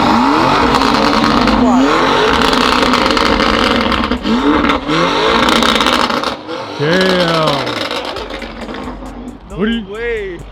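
A tuned Lamborghini Urus revs loudly and repeatedly close by, its engine rising and falling in sharp sweeps with crackling exhaust pops, while people talk and react over it.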